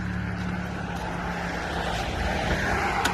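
A Volvo S80 with a faulty key chip that only starts intermittently runs with a steady, low engine rumble under a broad hum, close and continuous, with a faint click near the end and no talking.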